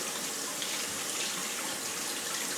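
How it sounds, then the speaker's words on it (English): A water tap runs steadily while hands are rinsed, giving a close, continuous gushing hiss with no pauses. "Let me rinse all that off."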